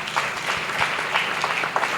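A church congregation applauds preachers with steady, continuous clapping that fills the moment without pause.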